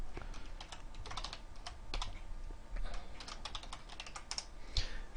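Steady typing on a computer keyboard, close and fairly quiet, with irregular clusters of key clicks over a soft background hiss and no talk.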